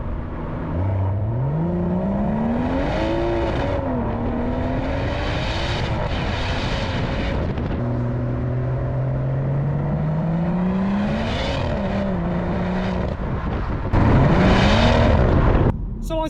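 BMW M140i engine and exhaust revving hard through repeated rising and falling pulls, loud and close, with gearshift dips between surges and a final sharp burst of revs.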